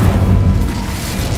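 Incendio fire spell cast in Hogwarts Legacy on hard difficulty, a loud, dense low rumbling burst of flame that roars steadily through the whole moment without a pause.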